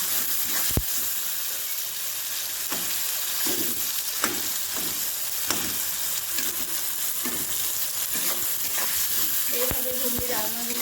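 Spices stir-fry in hot oil in a pan while ghugni is being cooked, giving a steady, close sizzle and crackle, with occasional scrapes and clinks of a stirring utensil.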